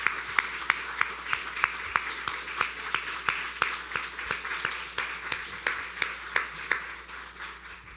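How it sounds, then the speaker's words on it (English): Audience at a community salute ceremony applauds veterans with a thin, rhythmic round of clapping. Individual claps stand out at a regular pace and fade slightly toward the end. "If you could join me in a round of applause for our veterans."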